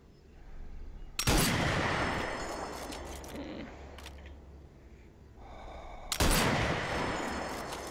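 Two sharp, loud rifle shots from the Sniper Elite VR shooting game, each ringing into a long decaying echo, spaced about five seconds apart with a faint voice in between.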